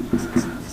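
Chalk or marker writing on a board during a coordinate geometry lesson, two short, close scratchy strokes spaced apart, with no talk.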